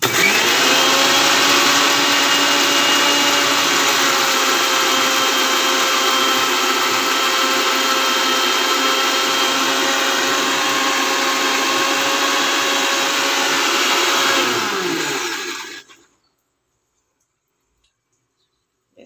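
Electric mixer grinder whirring steadily as it grinds mustard seeds with cumin, garlic, onion and chili into a paste, a loud, even motor drone that winds down and stops near the end, leaving silence.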